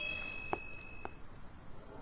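Two light bell dings about half a second apart ring in the Christmas Stories: The Nutcracker video game, soft and brief over a quiet background.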